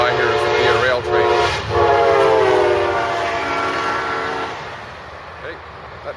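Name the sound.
Via Rail passenger train passing by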